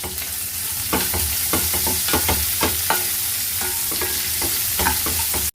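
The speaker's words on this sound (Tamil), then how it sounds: "இப்போது பூண்டு வெங்காயமும் நல்லா வதங்கிடுச்சு" Garlic and onion sizzle in hot oil in a pan while being stirred with coarse salt for a Tamil vathakulambu, a steady close frying hiss broken by repeated scraping stirs, with no voices.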